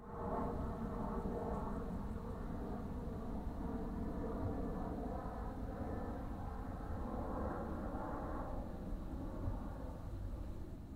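A steady, low aircraft rumble fills the air, a broad droning roar passing overhead above a forest, holding evenly throughout with no voices.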